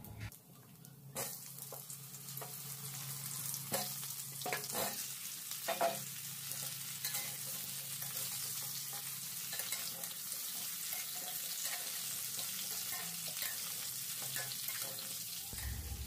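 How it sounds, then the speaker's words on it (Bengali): Whole spices, dried red chillies and mango pieces sizzle steadily in hot oil for mango pickle, a dense continuous frying hiss with a few stirring clatters near the start, fairly close and with no talking. "তেল দেওয়া হলো আর শুকনো লঙ্কা দেওয়া হলো, তারপরে এর মধ্যে দিয়ে দিচ্ছে যে 5 ফোড়ন"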